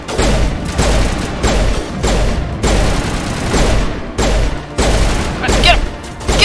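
Rapid bursts of video game gunfire from Mass Effect crackle in repeated loud volleys, with booming thuds and mechanical clatter layered throughout, while people shout excitedly over the shooting.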